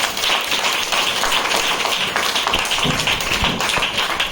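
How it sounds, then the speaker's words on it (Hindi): An audience at a seminar breaks into loud, dense applause for a woman being honoured, many hands clapping together close by without pause. "तो एक बार मैडम की चलिए जोरदार ताली हो जाए।"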